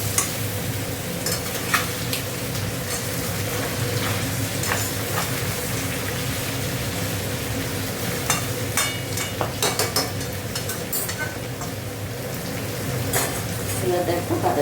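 Potatoes and tomatoes with turmeric frying in a pan, a steady close sizzle with scraping stir strokes and occasional utensil taps throughout, no talk.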